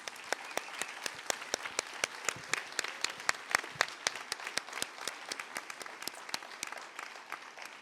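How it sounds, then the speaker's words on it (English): Audience applause at a Burlington mayoral debate: a steady round of clapping from a crowd, many sharp hand claps filling the room at even loudness for several seconds, with no talk over it. "a round of applause,"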